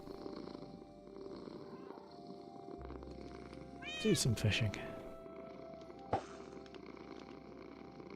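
Cats purring and meowing inside a Minecraft world, a soft low purr running quietly in the background under a voice and game sounds.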